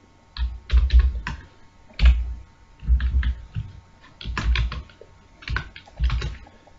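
Typing code on a computer keyboard, with steady bursts of close, crisp key clicks in an uneven rhythm and brief pauses between runs.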